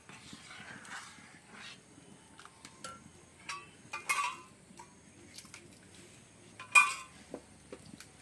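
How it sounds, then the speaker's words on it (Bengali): Caramel being stirred little by little into rabri in a pot: faint, scattered clinks and scrapes of a utensil against the vessel, soft and irregular. "আমি একটু একটু করে ক্যারামেল দিয়ে দিয়ে মিশিয়ে নিচ্ছি"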